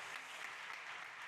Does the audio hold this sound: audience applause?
yes